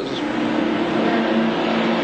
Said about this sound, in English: You can hear the cackling of the Mazda RX-7